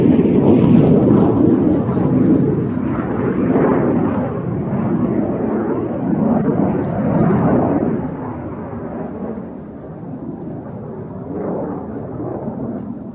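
Hawker Hunter jets pass at an airshow, producing a heavy, rolling rumble that surges and fades in waves, loud at first and gradually easing, with no talking over it.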